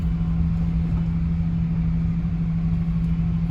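A heavy lorry hauling a five-axle trailer rumbles steadily at low speed close by, its engine giving a constant deep hum with no speech.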